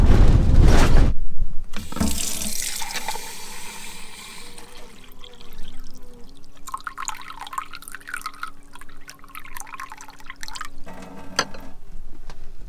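Spring water trickles slowly into a container beside a van in Bosnia and Herzegovina's Tara Canyon, a steady thin flow with drips, close and moderately loud, with a louder splash at the start and again near the end.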